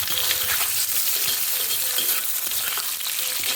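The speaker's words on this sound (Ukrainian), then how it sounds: "Дивіться, наші ковбаски обсмажилися" Sausages sizzle in a frying pan for Polish cabbage soup, a loud continuous hiss with a few soft stirring scrapes and no talking.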